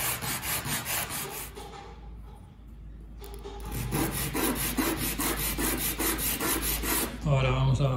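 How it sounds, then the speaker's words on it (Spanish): Rough, rasping strokes of coarse sandpaper rubbing on wooden knife handle scales, repeated back and forth, with a brief pause partway through before the scraping resumes. "Ahora le voy a dar un poco con la lija gruesa"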